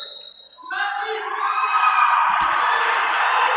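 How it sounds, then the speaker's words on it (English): A roller derby crowd at a bout between the Sugar Skulls and OCRD whoops and yells for a jammer, the sustained cheering swelling and holding at a steady, fairly loud level. "I'm hearing your people out there in the crowd making a little bit of noise for your respective jammer"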